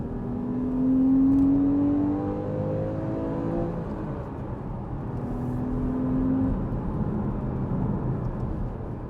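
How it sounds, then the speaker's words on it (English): A Porsche Cayman 981 in sports mode pulls hard in second gear, its engine note rising and swelling loudly twice over a steady wind and road roar, heard from inside the cabin. "I'll drop this to second and I'll open it up a bit"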